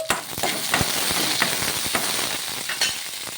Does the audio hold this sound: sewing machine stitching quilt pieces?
no